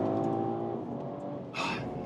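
BMW Alpina B3 GT accelerating hard out of a corner, a steady loud engine drone with rising harmonics, then a brief burst of higher-pitched noise near the end; no talk.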